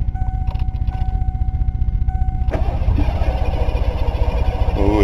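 Engine cranking rapidly on a starter while failing to catch, a fast even chugging rhythm close by that grows busier midway, with a brief tonal beep early on.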